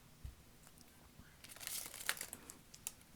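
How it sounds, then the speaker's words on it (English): Oracle card deck of thick cardstock being shuffled sideways in small hands, giving a quiet papery riffle and crinkle that swells into a denser flurry of card slaps midway before trailing off. "So we're shuffling this deck."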